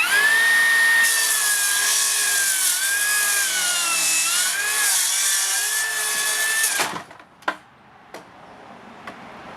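A Makita 40v 270mm track-compatible circular saw whines loudly at speed for about seven seconds, then cuts out abruptly during an anti-kickback test, followed by a few sharp knocks and clicks.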